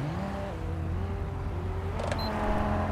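A heavy car engine in GTA 5, droning steadily at a low, even pitch with a slight rise, close and loud, with a brief clicking mechanical noise near the end.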